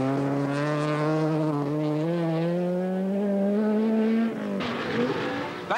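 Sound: rally car racing, 1982 Lombard RAC Rally

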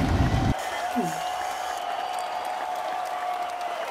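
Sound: airplane passengers applauding the pilot after landing

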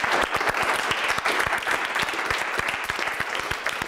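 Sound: studio audience applause

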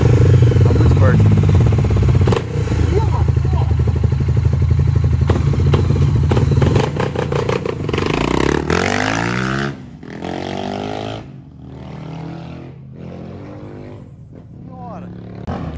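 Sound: Honda XRE 300 motorcycle with Dore exhaust riding

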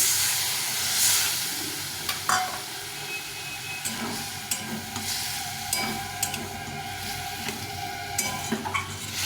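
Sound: stir-frying onion spice mix with a little water

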